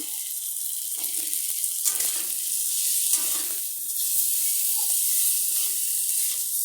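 Whole spices and two bay leaves fry in hot oil with a steady high sizzle and hiss, broken by faint stirring taps, close and without speech.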